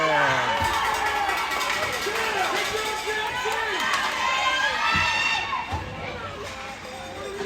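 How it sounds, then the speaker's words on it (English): Parents in the stands cheer and shout at a youth ice hockey game in an arena. Excited yells and children's cries form a continuous loud roar, with rising and falling shouts throughout. "Enthusiastic crowd."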